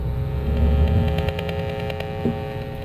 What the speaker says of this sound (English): The hum is just your AC hum